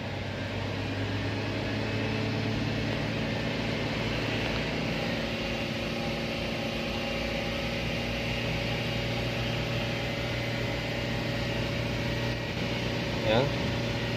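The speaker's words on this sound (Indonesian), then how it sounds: "Oke, RPM kita naikkan ya bro." A Nissan Serena engine runs at raised revs during a thermostat test, giving a steady, loud drone with constant hum throughout and no change in pitch, close to the car.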